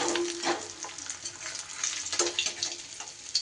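Pomfret fish frying in hot oil, a dense, steady sizzle up close with intermittent crackles and pops and occasional stirring sounds, no voices.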